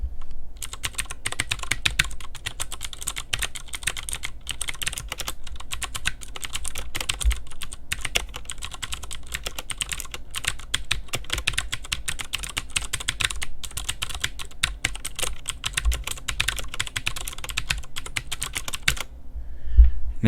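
Rapid, continuous typing on a KBP V60 mechanical keyboard with Cherry MX Blue switches and ABS keycaps, recorded up close, with crisp clicky keystrokes running steadily throughout.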